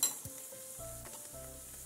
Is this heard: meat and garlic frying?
yes